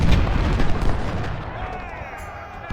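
Artillery and gunfire from the Civil War strategy game Ultimate General: Civil War, a dense continuous rumble of booms and shots that stays loud throughout, with no speech over it.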